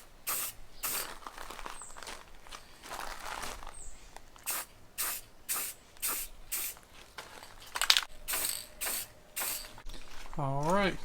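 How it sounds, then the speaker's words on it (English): Drum smoker parts are spray-painted from an aerosol can in a series of short, sharp hissing bursts separated by brief pauses, close and fairly loud, with a few faint clicks and a brief voice-like sound near the end. "got all these painted up with the first coat"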